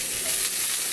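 Green onions, red onions and ginger hitting a hot cast iron pan, giving a dense, steady hiss of sizzling that is loud and close for a brief moment, with no voices.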